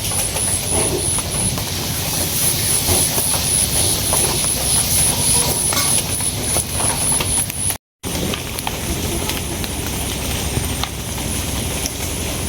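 A trawler boat's engine drones steadily as it passes slowly upstream in front of a house during heavy rain, a continuous broadband rumble with a high whine, close and loud throughout with one brief dropout.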